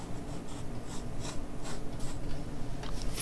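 A pencil scratches across paper while a dog is sketched, a close, soft run of short strokes in an uneven rhythm over a faint background hiss.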